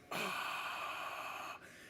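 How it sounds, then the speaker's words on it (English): A long, deep ujjayi exhale pushed out through the mouth from the throat during a group yoga session at the Times Square solstice event; one steady, breathy rush of air lasting about a second and a half. "And then we're gonna exhale for 6 seconds out the mouth."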